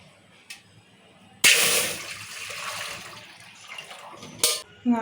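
Water is poured from a vessel onto measured rice for mutton biryani, a loud rushing pour of about three seconds, then quieter trickles and a short final splash.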